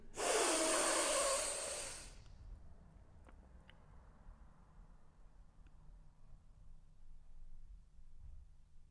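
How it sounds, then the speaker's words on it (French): One deep inhalation during a breathing exercise, a strong, close airy rush lasting about two seconds before fading into quiet room tone. "Une dernière fois, inspire tout l'air que tu peux."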